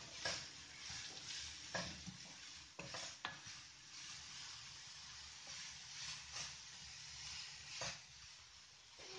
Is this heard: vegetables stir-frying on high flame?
yes